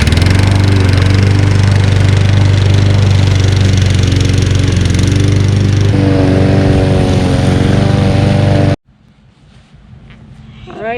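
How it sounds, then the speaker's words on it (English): Lawn mower engine running loud and close with a steady drone and a shift in pitch partway through, then cutting off abruptly, leaving faint outdoor background. "I'm gonna mow this for a minute."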